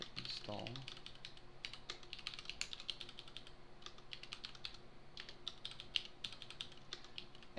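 Someone types a command on a computer keyboard, producing a quiet run of close, irregular key clicks with short pauses, fairly faint and with no talk.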